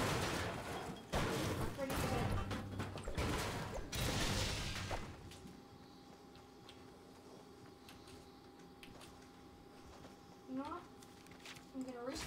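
A grenade launcher fires in Fortnite, sending a rapid cluster of sharp, loud blasts and crashes through the first few seconds before things settle into a quieter stretch with a low hum and scattered small clicks.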